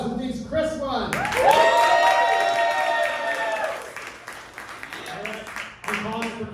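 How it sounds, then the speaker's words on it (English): A comedy show crowd breaks into applause and cheering for Chris, a loud yell rising over sustained clapping that swells for a couple of seconds, then thins out and quiets. "All right. Round of applause."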